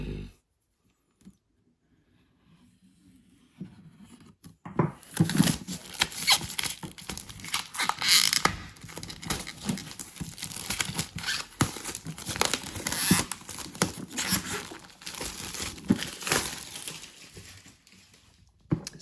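A sturdy Steamforged Games board game box, a Dungeons & Dragons Epic Encounters set called Web of the Spider Tyrant, is cut open and unwrapped. After a few quiet clicks, close, continuous crinkling and tearing of plastic packaging runs on steadily.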